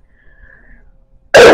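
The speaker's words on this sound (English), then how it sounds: "I'm coughing my head off" A single loud, harsh cough bursts out at the end after a stretch of near silence.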